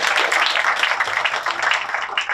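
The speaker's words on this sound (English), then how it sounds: "So please give a big round of applause for that." An audience applauding a Student of the Month honoree, a dense steady wash of clapping from many hands filling the room, sustained and fairly loud throughout.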